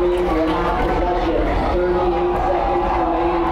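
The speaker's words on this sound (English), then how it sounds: "A little loud here with the crowd noise." A loud, continuous crowd roar fills a lacrosse championship game, with dense cheering and shouting held steady throughout, close and unbroken.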